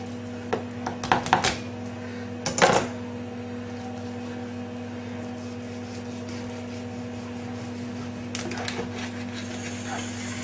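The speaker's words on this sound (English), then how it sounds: "first thing, straight down, straight through the backbone. Use a heavier knife on this." A heavy knife chopping straight through a fresh salmon backbone, a few sharp close knocks on a board in quick clusters, over a steady low electrical hum with no talk.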